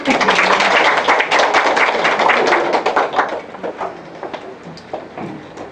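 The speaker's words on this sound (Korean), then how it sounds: "박수 부탁드립니다." Dense applause from a seminar audience welcoming a lecturer, loud and thick at first, then thinning into scattered claps as it dies away.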